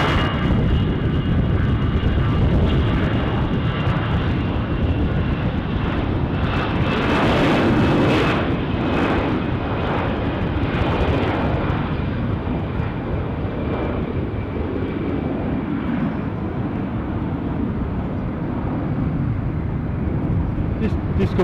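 Airliners at Düsseldorf Airport roar steadily in broadband jet noise that swells loudest midway and eases slowly, with a voice speaking over it.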